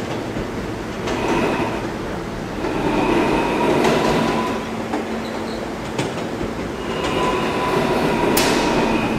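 A D subway train rides along with a steady rumble and clickety-clack of wheels on rails, a continuous loud ride broken by occasional sharper squeals and clanks.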